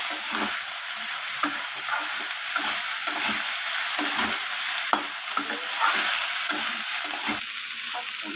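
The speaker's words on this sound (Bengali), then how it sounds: "সব কিছুর সাথে ভালোভাবে এইভাবে নাড়িয়ে চাড়িয়ে খুন্তির সাহায্যে কষিয়ে নেব" Bitter gourd and prawns stir-fried with cumin powder, a constant loud sizzle under rhythmic scrapes of a spatula against the pan, repeating about every half second.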